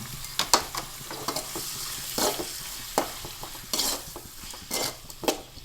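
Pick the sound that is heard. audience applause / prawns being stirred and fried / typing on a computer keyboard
prawns being stirred and fried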